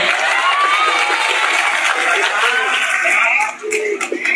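At a humorous Islamic religious lecture, a lively crowd claps and cheers together, with children shouting and voices rising over the clapping before it briefly dips and picks up again.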